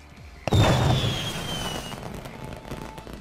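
A firework explodes in The Sims 3: a single sharp bang bursts in, followed by a descending whistle and a crackling shower that slowly fades over a few seconds.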